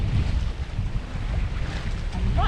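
Strong wind buffeting a microphone aboard a sailboat, a continuous loud low rumble and roar with gusty swells and a faint whistle near the end, no voices.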